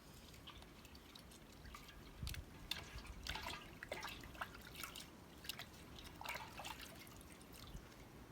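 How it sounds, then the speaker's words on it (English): Hands being washed under a running kitchen tap before preparing a raw vegan almond cream cheese, with a steady faint trickle and splashing drips throughout, quiet and alone without talk. "before we begin, let me wash my hands here"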